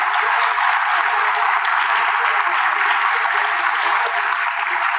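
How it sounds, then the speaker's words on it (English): A large crowd claps steadily and loudly, a dense continuous wash of applause holding at the same level throughout. "give a serious round of applause and a shout out to all the young people"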